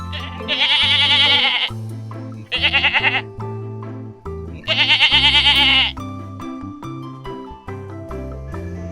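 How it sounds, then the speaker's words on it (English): A goat gives three loud bleats, a long call, a short stuttering one, then another long one, separated by quieter low-pitched background tones. "Goat."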